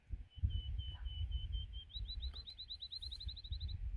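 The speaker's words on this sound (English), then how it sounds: "Anybody knows what that bird is if you can hear it?" A wild bird sings outdoors in Wyoming, a high thin repeated note that speeds into a rapid trill of even, evenly spaced chirps, moderately distant over steady low wind and outdoor rumble.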